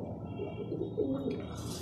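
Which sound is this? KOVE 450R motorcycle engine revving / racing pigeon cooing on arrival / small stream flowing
racing pigeon cooing on arrival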